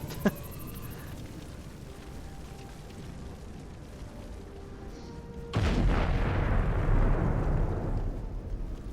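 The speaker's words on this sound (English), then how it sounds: "It's a loud explosion." A sudden loud explosion in the space game Star Trek Online hits after a quiet stretch of low game ambience, then a heavy roaring rumble sustains and slowly fades.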